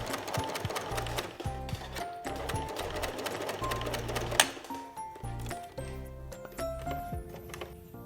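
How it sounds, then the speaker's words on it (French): Sewing machine stitching ribbons firmly into the corners of a homemade fabric mask, a fast mechanical rattling hum in repeated bursts with short pauses between runs, close and steady. "tu vas venir coudre bien solidement donc tes 4 rubans dans les coins ou alors ton élastique."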